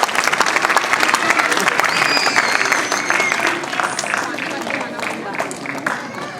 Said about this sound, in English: Can we have a round of applause, please, for our teachers?